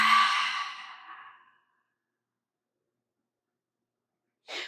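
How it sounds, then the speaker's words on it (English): A single long breath exhaled through an open mouth, breathy and close, fading out over a second and a half into silence, followed by a brief soft breath at the very end. "Open mouth, exhale."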